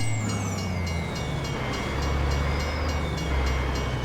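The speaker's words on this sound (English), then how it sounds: "What is with that train, that crossing bell?" A train rumbling past a railroad crossing in American Truck Simulator, a loud, steady low drone with the crossing bell ringing in rapid, regular strikes throughout, close and continuous.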